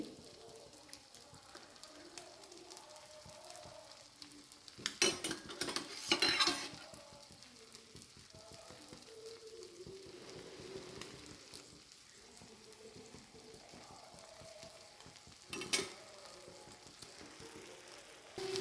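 An egg dosa fries in oil on a pan, giving a steady low sizzle throughout, broken by two louder bursts of crackling and scraping around five and sixteen seconds as the dosa is turned.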